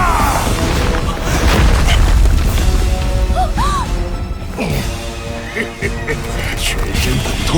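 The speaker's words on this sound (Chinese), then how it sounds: "全身骨头碎裂的声音" Loud, dense crunching and smashing impacts of every bone in a body shattering in an animated fantasy series, booming hits packed with cracks over a roaring low rumble, with a voice speaking over part of it.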